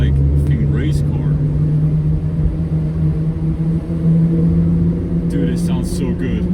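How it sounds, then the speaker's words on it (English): Loud BMW with a race-car-like straight-piped engine drives past during an SOC weekend, a continuous heavy low rumble that holds steady throughout, with some brief higher bursts near the start and end. "that's the loudest BMW I've ever heard"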